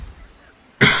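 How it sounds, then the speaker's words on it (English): A single sharp, loud cough from a man who is still a bit ill, breaking abruptly out of near silence near the end. "It's mainly just a cough now."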